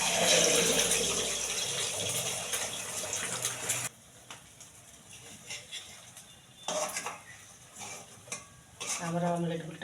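Beaten eggs with chopped chilli and salt hit hot mustard oil in a wok for an omelette, a loud burst of sizzling that drops off sharply, followed by quieter frying, spatula scrapes and clinks.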